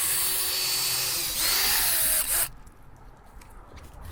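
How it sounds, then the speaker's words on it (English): A power drill whirs steadily as it drives a bolt with a flat washer into the side of a wooden truck box, running loud and close for about two and a half seconds before cutting off to quiet. "when you drill into your pilot holes so that they actually line up"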